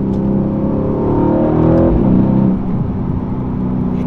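A 2020 Mercedes-AMG C63 S coupe with its 4.0-litre biturbo V8 and nine-speed automatic, engine note rising steadily under load then dipping as it shifts, loud and close from inside the car with no talk.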